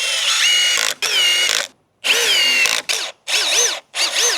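A Milwaukee power drill drives a fastener in a series of short, whining motor bursts that rise and fall in pitch, close and loud with brief silences between pulls of the trigger.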